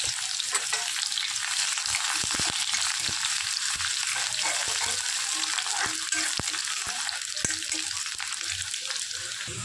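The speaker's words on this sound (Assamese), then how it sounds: "পিঁয়াজ ভজা হৈ গ'ল" Onions fry in hot oil in a kadai, giving a continuous close sizzle broken by sharp scraping stir strokes and occasional taps of the spoon against the pan.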